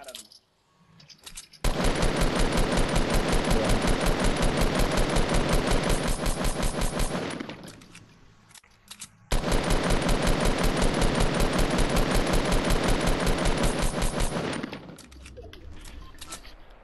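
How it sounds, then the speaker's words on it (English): Rapid automatic gunfire from a Fortnite match rattles loudly in two long sustained bursts separated by a short pause, with a quieter tail of game noise at the end. "They're taking shots at me."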